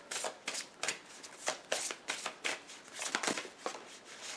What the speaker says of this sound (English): we're going to pull some tarot cards for it